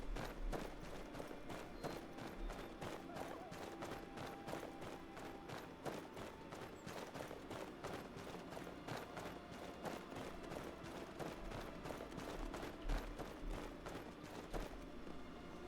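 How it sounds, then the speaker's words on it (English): Footsteps in the video game Skyrim land in a quick, steady rhythm of soft thuds, close and regular throughout, with a faint low rumble and no voices. "I thought I heard a second set of footsteps."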